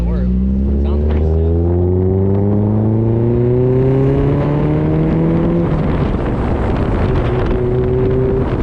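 A Mazda Miata fitted with a new ISR exhaust revs hard, its loud raspy drone climbing steadily in pitch through several long pulls before dropping and rising again, close to the microphone with wind buffeting.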